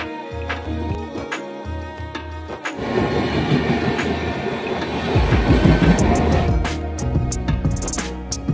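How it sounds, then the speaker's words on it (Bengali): A local train on the Kolkata to Bolpur line in West Bengal rolls loudly nearby. A steady low engine rumble gives way to rising clattering wheel noise and rattling carriages that swell and continue to the end. "লোকাল ট্রেনে আমি কিন্তু বোলপুর পৌঁছে গেলাম"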